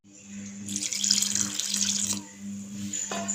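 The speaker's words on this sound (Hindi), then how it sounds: "यहाँ पे थोड़ा सा और पानी डालूंगी ताकि ये आसानी से मिक्स हो जाए।" Water poured from a tap or glass into an aloe vera halwa mixture in a home kitchen, a steady splashing gush lasting about a second and a half, then a quieter trickle, close and alone.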